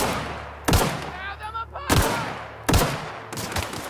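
Gunfire in The Outer Worlds video game: three loud, sharp shots spaced about a second apart, each with a booming tail, over a low background hum and faint tonal game sounds.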